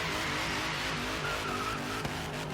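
A Dodge Demon drifting on a hot lap, a loud steady engine roar blended with sustained tire squeal and skidding noise throughout, no voices present.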